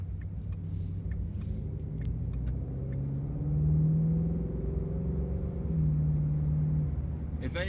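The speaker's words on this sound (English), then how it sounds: "if you listen to the exhaust has got kind of a throaty note to it" A 2016 Ford Mustang GT-CS with true dual exhaust gives a low, throaty rumble while accelerating, swelling louder mid-drive with a steady engine drone from inside the car, a voice talking faintly over it.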